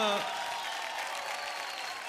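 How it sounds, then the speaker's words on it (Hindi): Applause from a studio audience on a Hindi comedy talk show greets two guests, a steady, dense clapping that holds at an even level for the whole moment with no talk over it. "दोनों के लिए जोरदार तालियां हो जाए जरा"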